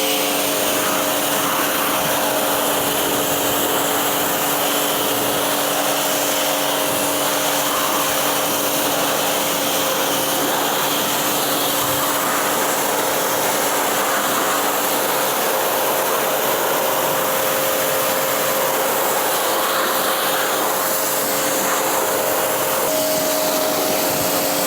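Steady broadband hiss of a water spray rinsing a car's paint after bug removal, continuous and fairly loud with a constant mechanical hum underneath and no pauses.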